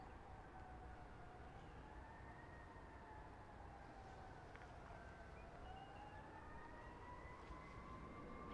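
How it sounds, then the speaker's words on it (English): Fire department siren in Naperville wailing from far off, its slow rising and falling tone steady and faint over a constant background rumble, with no talk. "You can hear Naperville Fire Department in the background doing their thing"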